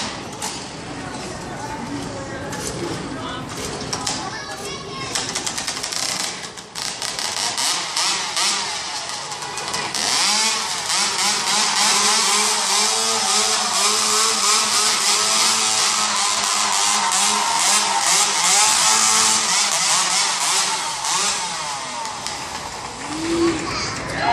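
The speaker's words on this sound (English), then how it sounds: "you are definitely going to want to cover up your ears while they fire up these hot saws" Hot saws roaring at a lumberjack competition at SeaWorld San Antonio, a loud, raspy high-revving engine scream that builds and holds for most of the span, with crowd noise and voices underneath.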